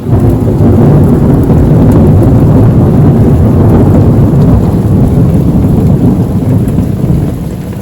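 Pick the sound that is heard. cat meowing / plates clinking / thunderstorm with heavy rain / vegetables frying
thunderstorm with heavy rain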